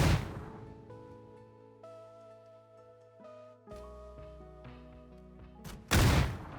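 A Panzerfaust rocket fired in PUBG detonates with a single loud, close explosion near the end, after a stretch of sustained musical tones.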